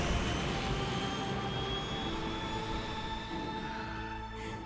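Steady roar of an airplane jet engine in a Metal Gear Solid 3 video game cutscene, continuous and loud, easing slightly toward the end with no talking.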